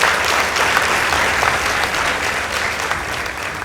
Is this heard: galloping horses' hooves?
no